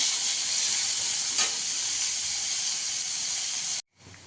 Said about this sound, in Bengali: দিয়ে দেবো পেঁয়াজটাকে একটু লাল লাল করে ভেজে নিতে হবে